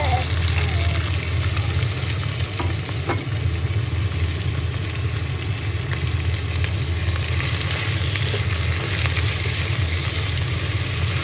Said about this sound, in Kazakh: Жуамызды қызарғанша қуырып алғаннан кейін үстіне туралған бауырымызды саламыз